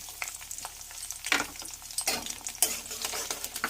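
Crushed garlic and three split green chillies hit hot oil with black cumin seeds, giving a close, steady crackling sizzle with a few louder spits and pops as the ingredients are stirred in the pan.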